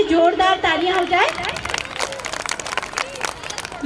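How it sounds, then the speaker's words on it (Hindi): An audience at a school annual function breaks into applause, a busy stretch of clapping mixed with crowd noise following a voice at the start. "पूजा चौहान मैम के लिए जोरदार तालियां हो जाए"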